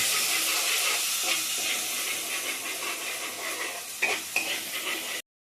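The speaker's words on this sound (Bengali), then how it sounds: "এই টমেটো বাটাটাও দিয়ে দিলাম পুরোটা। দিয়ে আমি নাড়বো।" Tomato paste stirred into a hot frying pan for an eggplant dish, a steady broad sizzle and hiss with soft scraping, close and fairly quiet, a couple of sharper clicks near the end before it cuts off.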